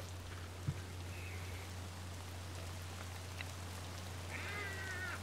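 Steady rain falls across an outdoor map in the video game Escape From Tarkov, a continuous hiss with a low hum beneath, one brief thud and a faint cat-like squeal near the end, no talk.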